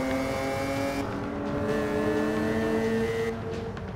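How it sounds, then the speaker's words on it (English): Mazda race car engine in the Forza racing video game, a steady loud drone holding one pitch with gear-shift changes in tone, continuous throughout with no talk. "The engine sounds pretty good."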